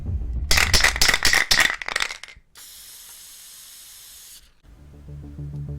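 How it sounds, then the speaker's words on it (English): A spray primer aerosol can is used on a Dungeons & Dragons miniature. First comes a burst of rattling as the can is shaken, then a steady two-second hiss of spray, followed by quieter handling sounds. "so start with a spray primer."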